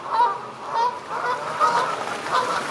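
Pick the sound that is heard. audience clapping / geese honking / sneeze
geese honking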